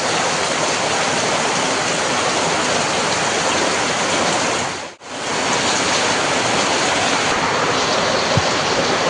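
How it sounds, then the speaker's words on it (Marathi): Loud, dense wind-driven rain roaring steadily like a downpour in a Konkan village, with a brief dip partway through before the heavy wash resumes. "कधी पण पाऊस पडतो कोकणात"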